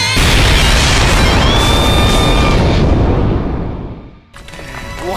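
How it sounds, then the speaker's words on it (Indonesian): A bomb hidden inside a suitcase explodes with a loud, close blast that roars on as a sustained rumbling wash, tapering off after a few seconds before a brief burst of debris and noise returns. "koper itu pun seketika meledak"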